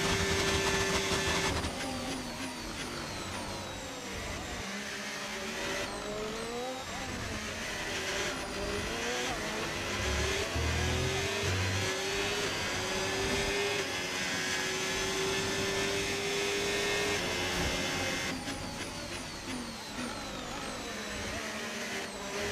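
Ferrari Formula 1 car engine in an F1 25 race, a loud, close, continuous high-pitched whine that sweeps up and down through gear changes across the whole stretch, with no talking.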